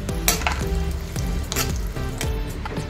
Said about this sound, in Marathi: त्यामध्ये हे ड्रायफ्रुट्स जरा चांगले तळून